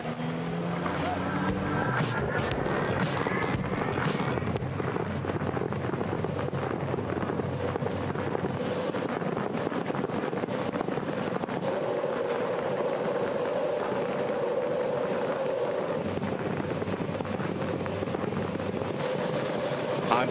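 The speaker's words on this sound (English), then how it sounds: "Honda engines coming to life" Honda race car engines on a field of 23 cars fire up for a 200-lap, 300-mile season-finale race, a loud, continuous rumbling roar mixed with wind buffeting, with a voice talking over it.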